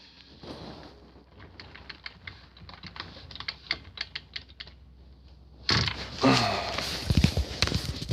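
A computer keyboard being typed on to enter a password: a quick run of light, close clicking keystrokes, followed by a louder burst of handling noise near the end.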